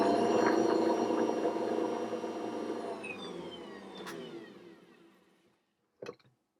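An Ankarsrum stand mixer whirs steadily while mixing chocolate loaf cake batter, close and humming, then slowly winds down to silence, followed by a brief clatter.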